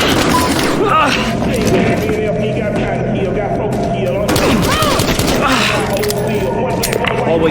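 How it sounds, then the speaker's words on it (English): Gunfire in the video game Battlefield Hardline, a dense burst of rapid shots and clattering mechanical noise mixed with game voices and background sound. "Shots fired."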